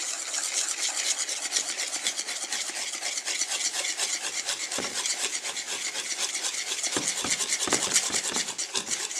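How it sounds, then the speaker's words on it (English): A spoon scrapes steadily through flour and milk as Belgian waffle batter is mixed from scratch, a close, continuous rasping rub with quick rhythmic strokes and a few soft knocks against the bowl. "Stir that in."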